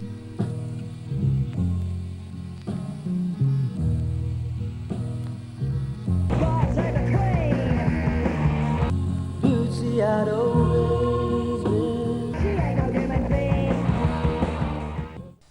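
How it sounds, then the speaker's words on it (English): A gramophone record that was excavated in pieces and glued back together plays continuous old-sounding music with tonal melody lines, fairly steady in level and with no speech throughout. "The gramophone record from Trench 2 has been glued back together and sounds like this."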